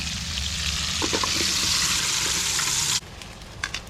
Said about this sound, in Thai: แล้วก็ทอดเลย ปลาเนี่ยทอดพอสุกนะครับ